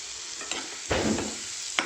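Chopped tomato tips into a hot frying pan of prawn roast with shallots, sparking a sudden loud sizzle and clatter against a steady frying hiss, with a few short scrapes nearby.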